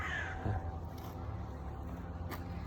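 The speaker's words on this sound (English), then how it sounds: "trying to film some crows" Crows cawing outdoors in a city, a few harsh calls near the start over steady low traffic rumble, with a fainter caw later.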